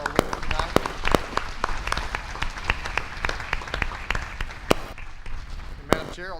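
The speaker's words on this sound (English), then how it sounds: "Please help me give a big round of applause for all of our winners tonight." Audience applause at an evening meeting honouring award winners, a steady wash of clapping with some sharp louder claps standing out, moderately near and continuous for several seconds before a voice cuts in at the end.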